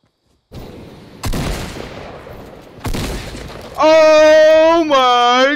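Two heavy blasts from Fortnite gunfire during a jetpack battle, each a sharp crack with a lingering tail, followed by a loud harmonic tone sweeping up and down; close and loud, no talk.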